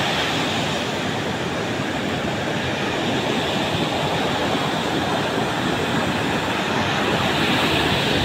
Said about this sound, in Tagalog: Yan, lalaki ng alon, no?